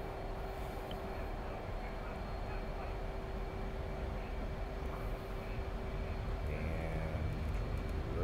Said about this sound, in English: I'll go ahead and go into afterburner mode